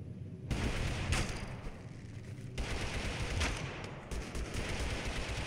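Rapid bursts of automatic gunfire crackle through a Totally Accurate Battlegrounds match, dense rattling volleys broken by brief pauses, loud and close with no voices.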